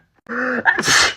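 A single sharp sneeze, preceded by a short rising intake of breath, loud and close.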